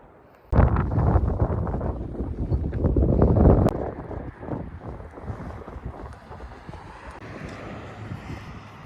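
Wind gusts hit the microphone suddenly and loudly on a coastal state park hike near Galveston, Texas, blustering for a few seconds before easing into a softer, lingering rush of air.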